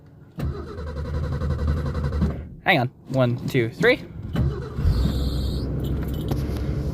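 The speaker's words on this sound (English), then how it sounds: "This car cold starts way easier." A 1982 classic car cold-starting: an engine catches and settles into a loud, steady idle close by, while someone speaks and counts over it.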